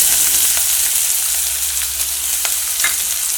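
Chopped onion frying in hot oil where mustard seeds have just popped, giving a loud, steady sizzle that carries on without a break.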